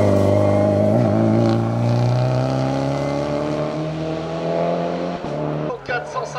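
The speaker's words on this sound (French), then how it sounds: "c'est Nicolas Garnier qui est parti à l'instant pour le pilote de la Cupra Leon Super Bar" Cupra Leon race car at a hill climb, its engine loud and sustained with shifting revs over several seconds as it pulls away, with commentary voices talking over it.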